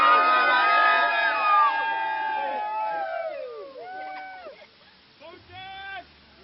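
A lively crowd gathered at an election precinct cheers and shouts, loud at first and then fading, with whoops and voices rising over the general hubbub.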